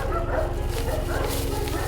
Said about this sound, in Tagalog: Ayan, mga aso natin.